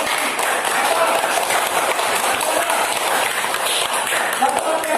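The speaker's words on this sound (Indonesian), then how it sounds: "kita tepuk tangan untuk pertanyaan" A classroom of students claps for a group's question in a lesson, a busy, continuous patter of hands filling the room at a steady level.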